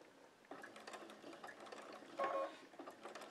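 A sewing machine fitted with a size 14 needle is turned slowly by hand, producing faint, close mechanical clicking and soft whirring in uneven bursts, with one slightly louder mechanical clunk partway through.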